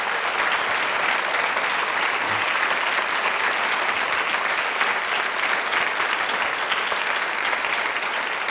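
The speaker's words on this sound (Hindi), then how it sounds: "एक बार तालियां आप स्वयं अपने लिए बजाइए जोरों से।" A studio audience of women engineering college students at a quiz show in Jaipur applauds loudly, a dense, unbroken wall of clapping that holds steady from start to finish.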